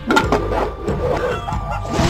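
A cartoon chicken in a Paw Patrol kids' video game clucks in short repeated bursts, loud and busy over background game music and effects.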